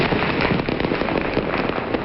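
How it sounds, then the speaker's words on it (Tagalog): New Year fireworks going off in a dense, continuous crackle of overlapping bursts, filling the sky with steady popping at moderate distance, no voices. "Nagningning ang kalangitan kagabi dahil sa makukulay na fireworks bilang pagsalubong sa bagong taon."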